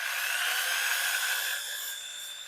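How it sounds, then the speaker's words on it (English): An angle grinder with a sanding attachment working back and forth over a wooden bowl, producing a loud, steady high-pitched whine that eases slightly toward the end, with no talking. "I'm just moving it back and forth, the grinder back and forth like this"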